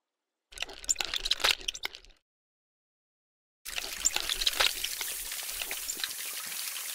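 Water pours and splashes onto a cartoon ragdoll character in the mobile game Kick The Buddy, two bursts of soft, hissy trickling separated by a short silence, the second running on steadily until the end.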